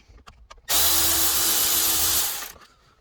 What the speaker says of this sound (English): you're gonna get a T30 and we're gonna go ahead and loosen up that screw